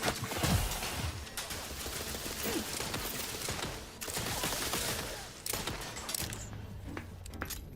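Gunfire rattles in bursts during a session of the video game The Outer Worlds 2, with sharp repeated shots and clicks at moderate level that continue on and off across the stretch.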